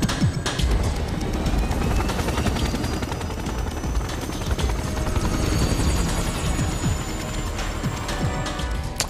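A helicopter in the Resident Evil 6 video game gives a loud, steady rotor drone that runs unbroken through the whole stretch, with faint mechanical buzz layered over it.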